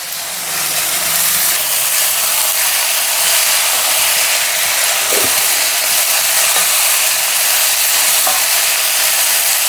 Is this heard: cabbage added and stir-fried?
yes